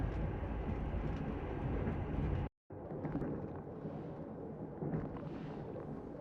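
A train rumbles through a Secret Files Tunguska video game scene as a steady low roar. It breaks off in a sudden brief cut, then resumes slightly softer.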